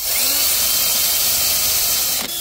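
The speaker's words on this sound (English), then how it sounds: "so just have to drill a number of holes." A power drill bores rivet holes in an RV slideout on a Beaver motorhome, a loud, steady high-pitched whine close up that runs continuously and dips briefly at the end.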